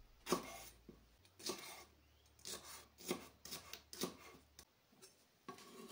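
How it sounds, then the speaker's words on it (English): Knife slicing hot chilies on a cutting board, quiet crisp cuts arriving in irregular strokes with soft rasping and a few sharper taps, close but faint. "Slice 2 hot chilies or 2 mini peppers"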